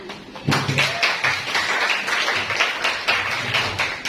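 A classroom group claps in uneven, scattered applause during a school physics lesson, the clapping starting abruptly and carrying on at moderate loudness for several seconds.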